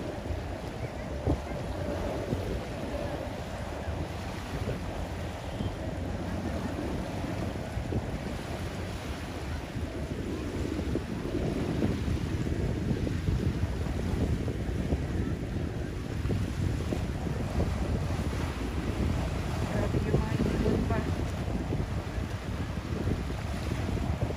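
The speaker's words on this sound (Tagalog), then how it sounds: "Tapos mahangin na naman." Strong wind at the Manila Bay shoreline buffets the microphone continuously, with a broad rushing roar and surf-like wash throughout, no voices.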